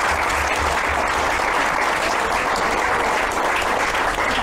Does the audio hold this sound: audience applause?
yes